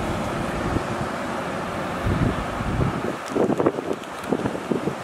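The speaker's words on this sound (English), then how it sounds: "Yeah, this wind's picked up quite a bit also." Steady wind blowing across a rocky surf-fishing shore, with low rumbling gusts and faint surf washing in the background, loud and continuous throughout.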